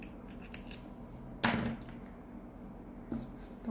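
Scissors snip yarn beside amigurumi crochet work, one sharp close cut standing out among a few lighter clicks and handling noises in a quiet room.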